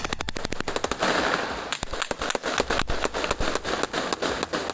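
Rapid bursts of gunfire crack loudly in quick succession during a bank robbery near an airport, with some shots sounding nearby and the volleys continuing almost without pause.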